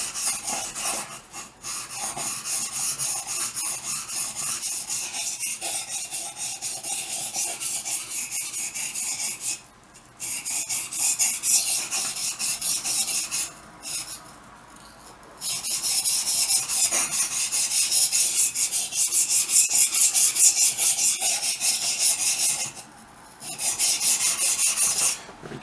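A steel blade is honed with its bevel rocked flat against a wet sharpening stone, producing continuous scraping strokes in long runs broken by brief pauses, close and steady.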